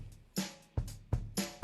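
A GarageBand virtual drummer plays a short drum pattern with a kick, snare and cymbal hitting in a steady groove, at a quiet level and with no voices present.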